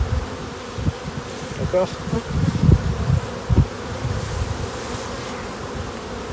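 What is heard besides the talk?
honeybees buzzing around hive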